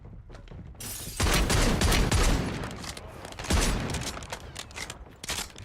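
Bursts of gunfire from the video game Call of Duty Warzone, dense overlapping shots in rapid volleys with heavy low-end booms, loud and sustained across the whole stretch with only brief dips between volleys.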